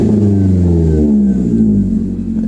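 A Chevy Cruze 1.8 fitted with headers and a deleted muffler revs hard close by, a loud, steady engine drone whose pitch slides gradually lower across the few seconds as the revs fall.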